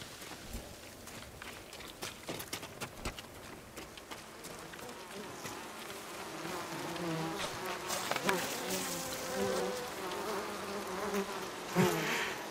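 Bees buzz and drone close by in the video game Ghost of Tsushima on Iki island, a continuous insect hum with scattered clicks and a few faint voices.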